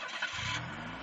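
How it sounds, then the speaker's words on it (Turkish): Fatih's car engine cranks and catches, settling into a steady low running hum, fairly close and with no voices over it. "Fehmi Fatih'in arabasının sesi bu."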